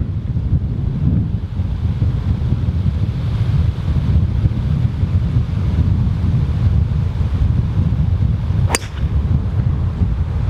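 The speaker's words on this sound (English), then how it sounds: "But that is a stiff breeze." Stiff breeze buffeting the microphone on a golf course, a continuous low roaring rumble with gusty swells, loud and steady throughout, with one brief sharp click near the end.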